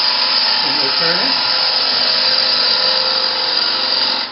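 A wood lathe turning a workpiece while a bevel-riding tool cuts, giving a steady high-pitched whine and continuous shearing hiss, loud and close throughout, with a brief voice-like warble early on.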